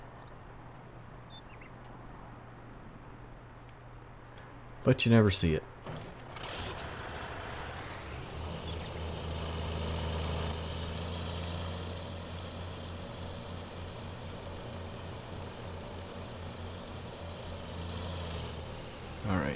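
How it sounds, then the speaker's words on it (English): Helicopter in the farming game Farming Simulator 19, a low engine drone that swells after a sharp burst of clicks and holds steady for the rest of the scene, faint and somewhat distant, while someone briefly talks. "I hear a helicopter."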